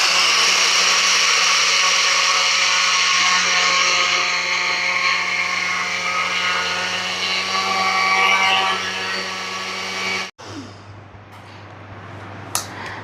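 An Agaro kitchen blender grinds rice into fine flour, a loud steady whirring motor roar with a hum that holds for about ten seconds, then cuts off abruptly, leaving a low hum and a faint clatter.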